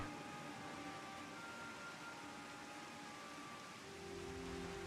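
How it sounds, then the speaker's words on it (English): Rain falls in the Final Fantasy XIV game world as a soft, steady hiss, quiet and continuous under faint ambient game tones, with no talking. "It's raining, I can't see shit."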